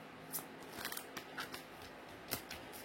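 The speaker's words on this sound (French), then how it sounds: "on va tirer 4 cartes" Tarot cards are drawn one by one from a deck, producing soft, close slides and crisp snaps scattered across a few seconds, faint and intermittent with no talking over them.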